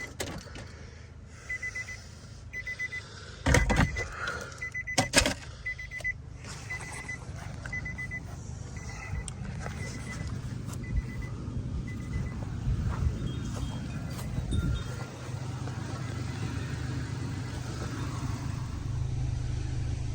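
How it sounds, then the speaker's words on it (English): A car struggles to start, with short bursts of engine cranking and sharp clunks early on, then a rough, rising engine rumble that keeps running near the microphone, with a repeating electronic beep in the background. "So I'm going to try to crank this car."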